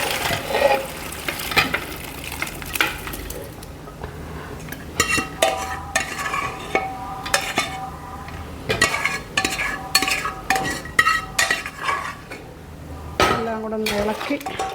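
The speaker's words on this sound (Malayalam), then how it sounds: "എല്ലാം കൂടെ ഒന്ന് ഇളക്കി" Cooked beef and kappa are stirred in a metal pot, with repeated scraping, knocking and clinking of a spoon against the pot in an uneven rhythm, close and clear, under a light sizzle.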